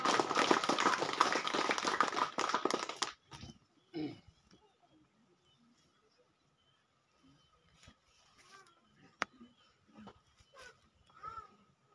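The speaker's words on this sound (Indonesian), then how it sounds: "Tepuk tangan yang meriah" A burst of dense clapping from a church congregation lasts about three seconds, then cuts off into near silence with faint scattered sounds.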